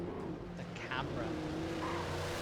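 Car engine and tyres in the video game Alan Wake, a steady low motor hum under game audio with a brief higher whine near the middle, fairly quiet throughout.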